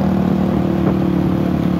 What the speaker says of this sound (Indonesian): Entah motor apa itu.